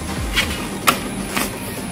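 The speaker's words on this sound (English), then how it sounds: "So you wait for a moment for the printer to initialize." An HP DeskJet 2320 printer initializes after being switched on, making a low mechanical hum with three short clicks or knocks spaced about half a second apart, fairly close and with no talking.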